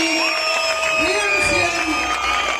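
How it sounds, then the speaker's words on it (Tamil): An audience at a large stage event claps and cheers, with loud whoops and shouts rising over dense crowd noise, close and continuous. "இன்னும் பலத்த கைத்தட்டல்."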